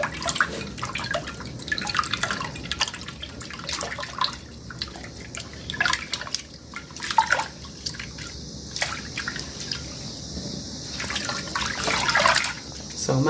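Tap water runs and splashes while seitan dough made from flour is rinsed by hand, a steady close trickle with sloshing and dripping, the flow surging louder near the end.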